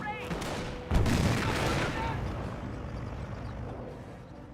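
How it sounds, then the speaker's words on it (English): Dense battlefield gunfire from the World War II strategy game Company of Heroes, with overlapping shots and a sharp burst about a second in, then sustained rattling fire and distant booms, mixed with faint voices. "We have a lot of incoming fire."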